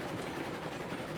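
A train rolls along in the Railroads Online video game, a steady, dense rumble of wheels and engine that fills the whole moment without pauses or voices.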